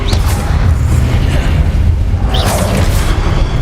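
Confringo blasting curse explosions in the Hogwarts Legacy video game: a steady, loud booming roar with bursts and whooshing flares throughout, no voices.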